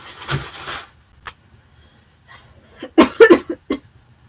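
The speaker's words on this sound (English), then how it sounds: "I can't stop coughing." A short burst of several harsh coughs comes near the end, following a rougher cough-like sound at the start, with quiet gaps in between.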